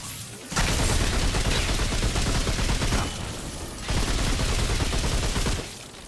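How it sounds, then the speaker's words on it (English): A gun fires in the video game Remnant 2 in two sustained bursts of loud, rapid automatic fire separated by a short lull, with no voices. "let me show you how much damage I can deal with this gun"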